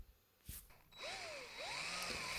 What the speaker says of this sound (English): Now I'm just drilling the center hole where the actual pencil will go in.